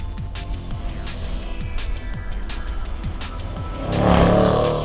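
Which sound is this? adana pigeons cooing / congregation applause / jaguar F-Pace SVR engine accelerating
jaguar F-Pace SVR engine accelerating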